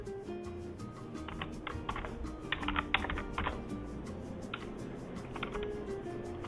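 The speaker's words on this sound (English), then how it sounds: "I'm going to go ahead and start typing that in" Rapid, uneven clicking of keys on a computer keyboard, close by, in short bursts with brief pauses.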